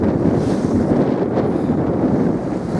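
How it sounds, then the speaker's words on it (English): A sailing ship under way in strong wind, with a steady roar of wind buffeting the microphone and rushing water against the hull, loud and continuous throughout. "It's a great ship. It just cuts through the waves."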